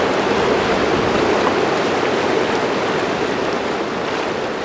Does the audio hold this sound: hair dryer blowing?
no